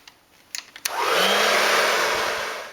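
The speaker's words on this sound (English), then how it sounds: "I'm going to grab my hairdryer again" A few small clicks, then a hair dryer switches on and blows with a steady, loud whirring roar that continues to the end.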